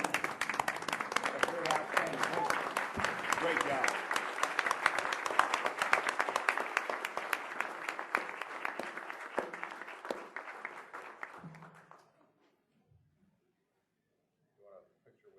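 A seated board of trustees and guests give a standing ovation at a college board meeting, dense applause sustained for about eleven seconds before fading out; a voice briefly offers praise during it.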